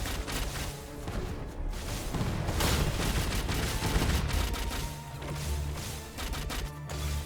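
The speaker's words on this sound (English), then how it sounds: "Artillery barrage for sure." Dense, continuous booms and crashes of an artillery barrage in the roguelike game Shardbreakers, loud and sustained with overlapping impacts throughout.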